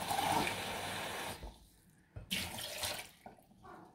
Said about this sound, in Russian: Сейчас сполосну мисочку,